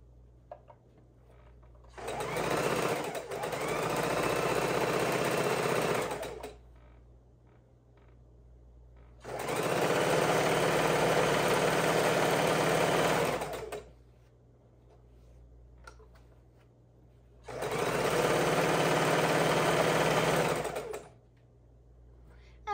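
A sewing machine stitching pieced quilt blocks for a girl's room quilt runs in three steady bursts of several seconds each, separated by pauses, close and fairly loud with no talking.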